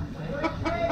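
Backyard chickens clucking close by, a few short bursts of hen calls rising over a steady low murmur.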